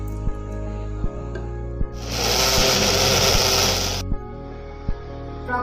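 A kitchen blender whirs loudly for about two seconds while mixing apple, milk and oats into a smoothie, starting and stopping abruptly, with quiet background hum and light taps before and after.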